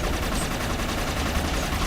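Rapid gunfire in the shooter game Inversion, a continuous loud burst of automatic fire with no pauses, dense and close.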